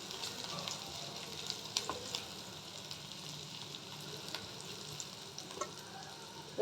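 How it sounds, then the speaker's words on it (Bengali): Capsicum pieces frying in a pan for masala paneer, a steady close sizzle with occasional clinks and stirring scrapes, no voices over it. "এটা একটু ভেজে নেব। ক্যাপসিকামগুলো আমি দিয়ে দিলাম"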